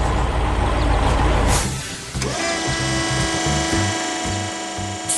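A cement truck rolls by with a loud, broad engine roar and air-brake hiss, then settles into a steady idling rumble with rhythmic low pulses and faint whine.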